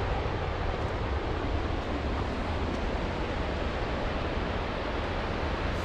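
A waterfall on the Timberline Trail around Mount Hood gives off a loud, steady, broadband rush of falling water. It fills the whole clip, with no voices.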